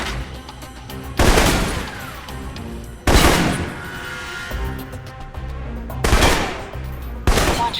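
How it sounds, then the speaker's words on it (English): Assault rifle fire in the Alpha Protocol video game cracks out in four sharp, loud bursts spaced a few seconds apart, each trailing off into a ringing echo over a low background rumble. "For long-range encounters, the assault rifle's the key. It's accurate, powerful."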